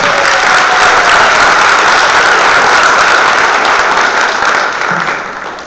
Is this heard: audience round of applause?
yes